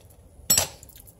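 A lid goes onto a pot of chicken noodle soup with a single close metallic clank that rings briefly, followed by a quieter tap.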